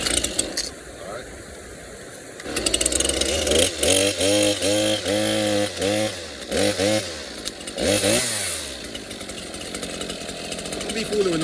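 A chainsaw works through storm debris during Hurricane Helene cleanup in Watauga, North Carolina, loud and close, revving in a run of rising and falling bursts before idling back down.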